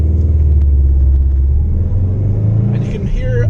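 A Subaru WRX STI fitted with performance engine, transmission and pitch stop mounts pulls away from a stop in regular driving, its low engine rumble steady and close inside the cabin, with someone talking over it.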